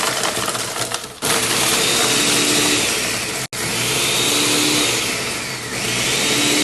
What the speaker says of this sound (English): Take your margarita, put it in the blender, turn it on.